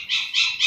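A dog cries in three short, high-pitched whimpering bursts in quick succession, fairly close and clear against a quiet background.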